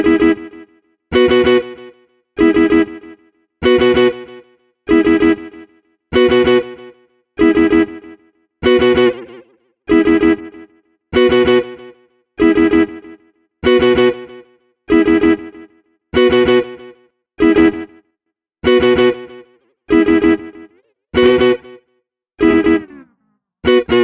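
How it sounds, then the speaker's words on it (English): Guitar-like notes pass through a PreSonus analog delay plugin in Logic Pro, a regular rhythmic pattern of short plucked phrases with echo repeats trailing each one, loud and clean with no voices. "So that's our basic analog delay right there."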